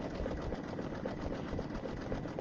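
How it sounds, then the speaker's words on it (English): A sewing machine stitches an Easter egg zipper bag, running fast with a steady, dense mechanical whir that stays close and unbroken throughout. "I can't make the machine go any faster."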